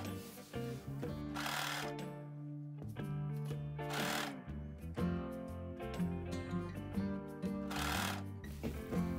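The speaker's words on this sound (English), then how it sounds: "Then stitch around it with a serger machine." A serger sewing overlock stitches along the edges of fabric for a boat-neck dress, with its motor running in bursts under a steady background of music.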